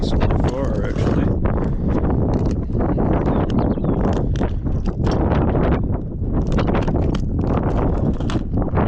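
Wind buffets the microphone outdoors during a fishing trip, a loud, continuous rushing roar with gusty fluctuations filling the whole stretch.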